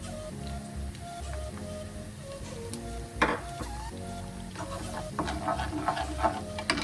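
Chopped onion and cumin fry in a pan, giving a soft, steady sizzle broken by a few sharp scrapes and clicks of stirring over a low background hum.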